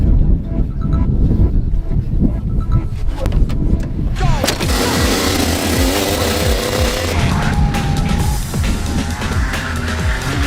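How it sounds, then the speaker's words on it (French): A racing kart engine is cranked on its starter at half throttle and catches, revving roughly and loudly over wind buffeting, with someone speaking nearby before it fires. "Là, on appuie sur le démarreur en mettant un mi-gaz à peu près pour que ça démarre."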